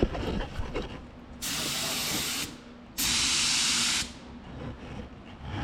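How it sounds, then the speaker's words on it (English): A spray gun test-sprays Cerakote coating while the spray pattern is checked for work on a turbo manifold and downpipe. Two loud, steady hissing bursts of about a second each are heard close up, with a short pause between them. "First thing we got to do is check our spray pattern."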